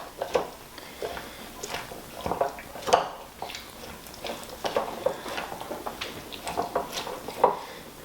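Cowboy caviar dressed with olive oil is stirred in a bowl, making soft, wet squishing and light clinking taps in an irregular rhythm, close and fairly quiet.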